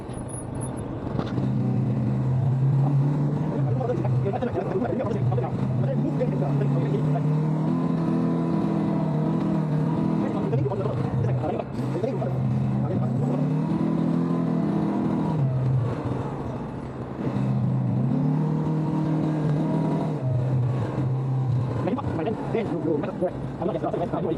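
An ATV engine revs repeatedly as the throttle is pressed, its loud droning pitch rising and falling in several surges while people talk over it close by.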